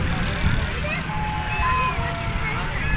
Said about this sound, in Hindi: यहाँ पर बहुत ज़्यादा ट्रैफिक है।